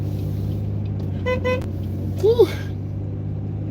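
Road traffic rumbles steadily as a car interior hum, with a short car horn toot and brief whistling tones, and a voice exclaims softly.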